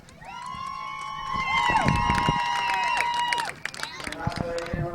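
A crowd cheers and shouts at a speedway during a non-winners race, with a sustained loud, tonal roar that fades and breaks into scattered shouts near the end.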